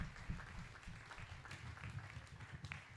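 A church congregation applauding during a Sunday service, a dense, steady patter of many hands clapping at a moderate distance, with no clear speech on top.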